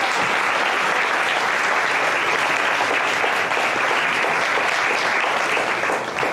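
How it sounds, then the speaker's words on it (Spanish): A church congregation claps loudly and steadily through a Spanish-language worship service, a dense, continuous wash of applause with no pause from start to finish. "Dale un aplauso grande al Señor."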